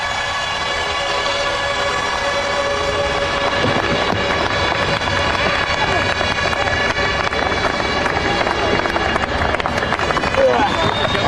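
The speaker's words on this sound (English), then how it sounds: "Listen to this crowd." Racetrack crowd at a 2003 Champ Car race roars and cheers continuously, a dense, loud wash of massed voices and noise sustained throughout with no pauses, heard without clear speech on top.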